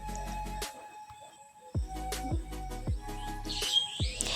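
Birds twitter in village bamboo thickets, scattered high chirps at moderate distance over a low steady hum, with a brief livelier burst of calls toward the end.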